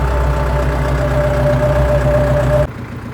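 A tractor engine runs steadily during carrot sowing, a loud continuous low drone with a steady mid-pitched whine that cuts off abruptly near the end, leaving a quieter rumble.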